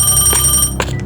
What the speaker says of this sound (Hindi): एक दिन उसे प्रिया का फोन आया।